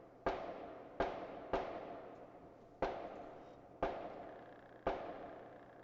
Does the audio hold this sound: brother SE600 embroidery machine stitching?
no